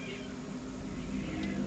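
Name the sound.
cats fighting outside the window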